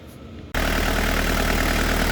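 A Mitsubishi Triton 2.8L turbo diesel engine idles at operating temperature with a steady, loud, even rumble. It starts abruptly after a brief quieter moment and holds unchanged to the end.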